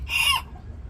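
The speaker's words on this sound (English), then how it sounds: "I got too many roosters. Way too many roosters." A rooster on a small flock farm of nineteen hens and about twelve roosters gives a single short, loud crow-like call lasting under half a second, followed by quiet low rumble.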